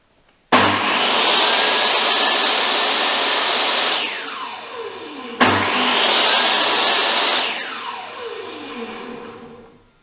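New table saw powered on twice with no soft start: each switch-on jumps straight to a loud, steady whine, runs a few seconds, then winds down with a falling pitch as the brake stops the blade.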